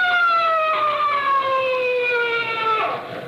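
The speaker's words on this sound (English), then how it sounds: "Hey, that's a police siren. Sounds like they're almost on top of us." A police siren wails loudly and steadily close by, a sustained rising-and-falling tone with rich harmonics that dips slightly toward the end, on an old radio drama soundtrack.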